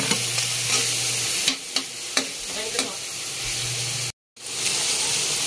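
Crushed garlic sautés in a pan for palabok, giving a loud, close, steady hiss broken by sharp spoon taps and scrapes, with a brief dropout near the end.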